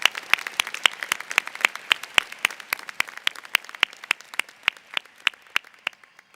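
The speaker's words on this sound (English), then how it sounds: "Can we have another round of applause for the wonderful class of 2025 in their country?" Applause from the audience at a law school convocation for the class of 2025, heard as a sparse, fairly close patter of separate claps with an uneven rhythm that thins out toward the end.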